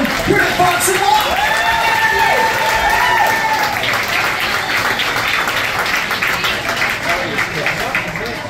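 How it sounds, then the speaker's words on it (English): An audience applauds steadily at Fox and Locke for the performers Kelly Jean and Chase, a dense wash of clapping that stays loud and full throughout, with some cheering mixed in. "Kelly Jean and Chase, a round of applause for their first time here at Fox and Locke"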